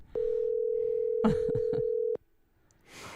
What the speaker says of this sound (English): So let's call